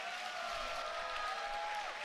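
Applause and crowd noise for two fighters at a Cage Wars MMA event, a steady wash of clapping and cheering that carries evenly through the whole stretch, with no voices rising above the crowd.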